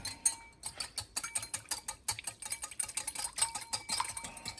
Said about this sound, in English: And we're going to give it a whisk.